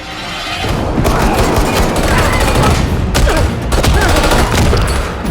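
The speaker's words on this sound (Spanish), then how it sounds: "las luces se apagan justo al instante de disparar el arma" Gunfire in a nightclub scene from the 2022 film The Batman, where the lights cut out as a gun is fired: loud, dense blasts and crashes layered over a busy, continuous action soundtrack with a few sharp peaks.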